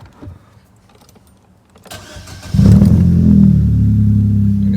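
A car with nearly 130,000 miles, started on the key: after a quiet pause and a faint click, the starter cranks briefly, then the engine catches and settles into a loud, steady idle close by.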